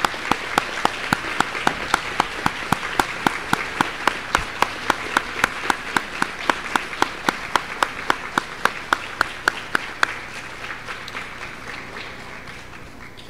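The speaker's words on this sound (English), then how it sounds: "How about a round of applause?" An audience at a Pampered & Pink event at Audubon Zoo applauds cancer survivors, with steady rhythmic clapping from a crowd that holds for about ten seconds before thinning and fading out.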